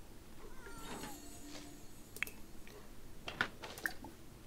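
A cat meows softly a few times in The Sims 4 Island Living, with faint game clicks and small ambient sounds around it and no talking.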